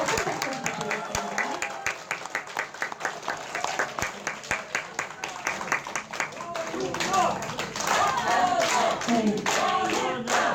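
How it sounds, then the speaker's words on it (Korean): Attendees at a Seoul education superintendent candidate's press conference and campaign launch clap in a lively, continuous burst, starting with some loud individual claps, with voices speaking through it and chatter swelling toward the end. "여러분 다시 한번 큰 박수 부탁드리겠습니다."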